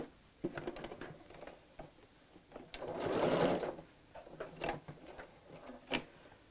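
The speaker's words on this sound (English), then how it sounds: "So just sew this to the edge within the seam allowance" A sewing machine stitching along the edge of fabric for a double zip pocket bag, quiet rapid mechanical clatter in short runs with pauses between them.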